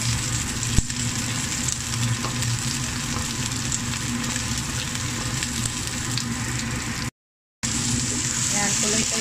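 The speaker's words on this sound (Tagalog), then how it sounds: "Ayan, tuloy-tuloy lang ang halo." Bell pepper and enoki mushroom with bacon stir-frying in a pan, a continuous dense sizzle with occasional scrape of stirring, briefly cutting out near the end.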